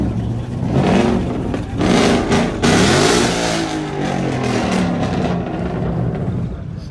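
Loud car engine revving at a Nashville Cars and Coffee meet, a sustained roar with rising and falling pitch sweeps over about seven seconds, close and continuous with no talk over it.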